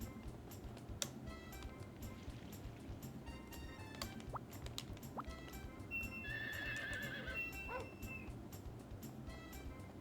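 A horse in the video game Harvest Moon 64 lets out a clear, high whinny midway through. Scattered clip-clop hoof taps and other small game sounds come before it over a quiet background.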